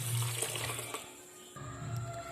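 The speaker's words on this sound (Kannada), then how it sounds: "ಭಾಳ ನೀರು ಹಾಕ್ರಿ, ಮೆತ್ತಗಾಗಬೇಕಿದು." Water is poured over toor dal and moong dal in a pot for bisibelebath, a steady splashing gush close by that eases off briefly midway and then resumes.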